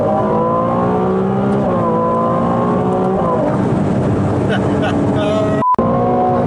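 Honda Civic Type R FL5 engine pulling at half throttle on a mountain road in Andorra, heard from inside the car: a loud, steady engine drone rises in pitch, then gives way to rougher road and engine noise near the end.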